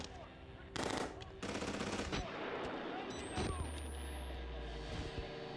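Gunfire in Outlast: Whistleblower comes as two loud, sharp bursts of rapid shots early on, followed by a lingering rumbling din and a faint rising whine, with a voice talking under it.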